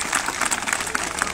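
A short burst of audience applause at a school gathering with teachers and a principal, a dense, steady patter of many hands clapping at moderate volume.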